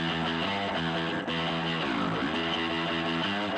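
Analog tape recording by the Black Keys, a full, continuous mix of steady harmonic tones and instruments, warm and dense throughout at an even, fairly quiet level, with no talking.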